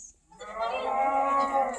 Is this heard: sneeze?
no